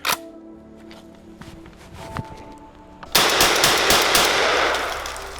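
An SAS-12 shotgun empties a five-round magazine in a quick, loud string of close booming shots, preceded by a single sharp report and some quiet handling noises.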